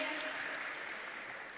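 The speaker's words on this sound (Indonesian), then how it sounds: "Beri tepuk tangan dulu dong untuk 3 narasumber yang sangat luar biasa pada pagi hari ini" An audience at a campus talk show on violence against women gives the three speakers a short round of applause, a dense even patter of clapping that fades slightly over a second and a half.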